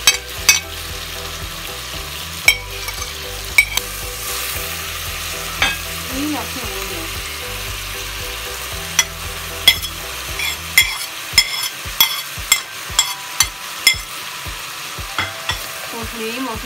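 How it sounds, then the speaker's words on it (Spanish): Pork and pepper sizzle steadily in a frying pan, close and loud, with a utensil stirring and scraping against the pan in repeated sharp clacks, especially toward the end. "Sofreímos un poquito más."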